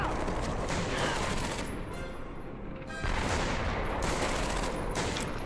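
Gunfire in the World War II shooter Medal of Honor: Vanguard, a dense, loud barrage of rapid shots and bursts that briefly thins out midway, then resumes at full intensity.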